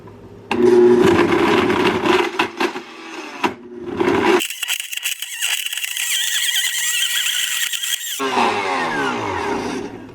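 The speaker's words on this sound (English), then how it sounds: "So now we're going to blend this up." A blender blending dates whirs loudly in bursts, then settles into a high, steady grinding roar for several seconds before cutting off abruptly.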